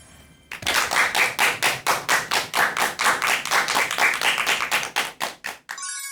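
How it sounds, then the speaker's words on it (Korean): An audience at a televised university lecture claps in a steady rhythm, about twenty crisp, evenly spaced beats in unison, with a short musical tone at the end. "큰 박수 부탁드립니다"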